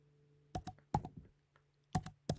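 A name typed on a computer keyboard: a handful of crisp, close key clicks in short irregular bursts, with quiet gaps between them.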